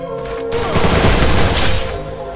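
Gunfire from an MP40 submachine gun in a shooting video game, a dense burst of rapid shots running almost the whole time at steady loud level, with faint background game noise.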